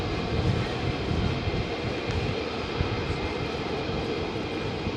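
An F-35 fighter jet at RAF Lakenheath produces a continuous, loud rumbling roar with a low-end throb, steady from start to finish and heard alone without speech.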